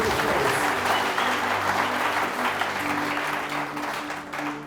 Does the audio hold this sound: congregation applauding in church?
yes